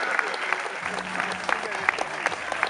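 An outdoor ceremony crowd at a May 3rd event in Wejherowo applauds, a dense and sustained wash of many hands clapping. Sharper individual claps pop out of the mass, and faint voices are heard underneath.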